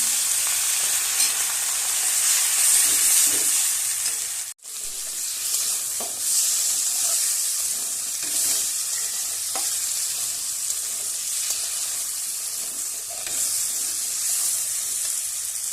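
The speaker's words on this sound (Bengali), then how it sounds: "অল্প করে একটু জল দেবো, জল দিয়ে ভালো করে কষিয়ে নেব।" Ground spices with chilli powder sautéed in a pan with a splash of water for a fish curry, a loud continuous hiss and sizzle with a brief gap partway, then stirring scrapes under the steady frying.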